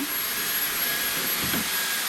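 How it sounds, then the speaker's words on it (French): A vacuum cleaner runs steadily close by in a room with ten-day-old puppies, a constant loud whooshing drone with no talk over it. "quand on passe l'aspirateur, à essayer de s'approcher d'eux le plus possible"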